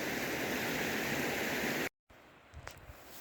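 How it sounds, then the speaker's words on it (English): A river flowing right past a remote Scottish highland bothy on the Fassfern Estate, a loud, steady broadband rush of water that cuts abruptly to a quieter outdoor ambience with faint knocks and movement. "There is a river, goes right past the Bothy"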